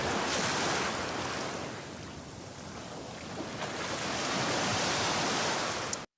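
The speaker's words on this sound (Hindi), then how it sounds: "रात का समय, बोट समुद्र के बीचों बीच है। लहरें हल्की तेज हैं।" Sea waves surround a boat at night in moderately rough water, a steady broadband wash that swells and ebbs with no voices, fading out abruptly at the end.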